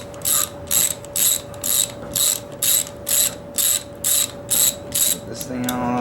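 A hand ratchet loosening bolts on a Cummins 4BT engine, loud, close and alone: about a dozen evenly spaced bursts of rapid clicking, one roughly every half second, with a steady faint hum underneath.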